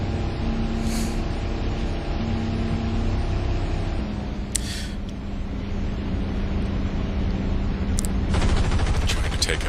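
P-47D fighter's guns fired in War Thunder during a long-range snapshot at an enemy plane over Saipan, heard as short bursts of gunfire over a steady droning engine, with a voice talking throughout.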